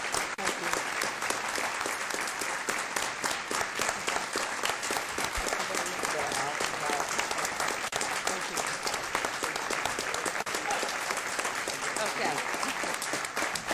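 A council meeting audience applauding, a dense sustained roar of many hands continuing throughout, with brief spoken thanks from a voice over it.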